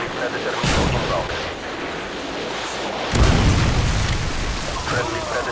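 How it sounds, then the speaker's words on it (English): Predator missile strikes in Call of Duty: Modern Warfare 2 (2009), two heavy booming explosions a few seconds apart over a constant rumbling battlefield roar. "Friendly predator missile inbound."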